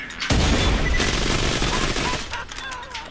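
Rapid bursts of gunfire from a gun in Borderlands crack out loud and close, a sustained volley after a short pause that tapers off near the end, with some game sound mixed in.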